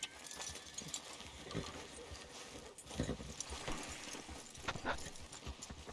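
Horse hooves clop in Red Dead Redemption 2 as a steady, moderately close beat of irregular thuds over a busy game ambience, with occasional jangling tack.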